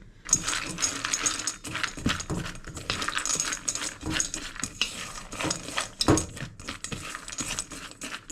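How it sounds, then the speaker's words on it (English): A utensil scrapes seasoning and melted butter off the sides of a bowl of pumpkin seeds, giving close, busy clinks and scrapes in quick bursts with short pauses between. "Just going to scrape it out, get as much, all of that butter as I can manage."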